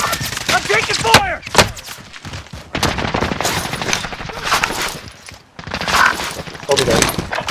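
Bursts of gunfire in Call of Duty: Modern Warfare, a busy mix of overlapping shots and impacts with some near cracks, running under game voices calling out throughout.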